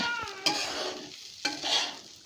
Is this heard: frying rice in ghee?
yes